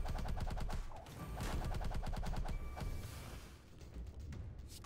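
Barrage card attack in the video game Slay the Spire, played as a Defect heart run: a rapid burst of repeated sharp gunfire-like hits in quick succession, loud and continuous, with no talking.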